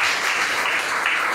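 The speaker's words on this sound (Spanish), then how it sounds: "Denle un aplauso fuerte al Señor." Church congregation giving a loud round of applause to the Lord during a Spanish-language worship service, a dense, steady wash of many hands clapping close by with no break.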